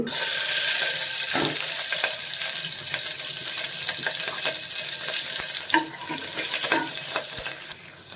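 Green chillies frying in ghee for vangi bath, a steady close hiss and sizzle with bursts of spattering and a few soft stirring scrapes, with no voices.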